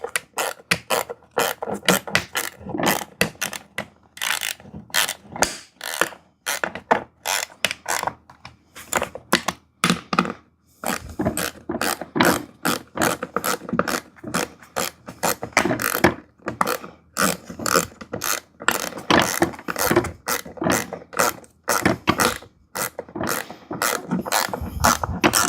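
Ratchet tightening bolts on a VEVOR hydraulic barber chair, rapid bursts of loud close clicking strokes repeated in quick runs with short pauses between them.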